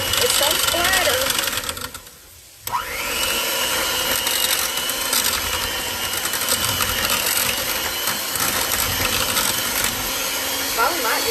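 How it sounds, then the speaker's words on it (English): An electric hand mixer whirs steadily as it beats milk into a batter for Southern fried pork chops, a continuous motor hum with a brief drop near the start, with a person talking over it. "Let's just put some milk in here, y'all. I'm going to use the mixer. Mix them up good."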